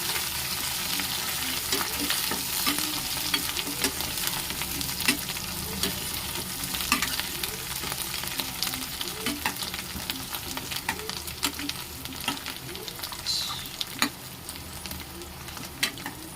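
Potatoes stirred and fried with masala for Kathiyawadi bhungla bateta: a steady, close sizzle with a dense run of spatula scrapes and taps against the pan, and no voices.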